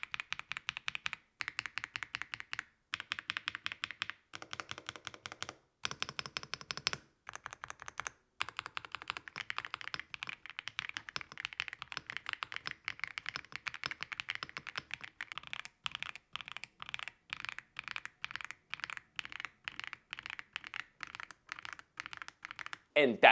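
Rapid, crisp keystrokes rattle out on an Aula F99 mechanical keyboard, a close, steady clack that runs almost without pause, with short breaks and occasional bursts of quicker typing.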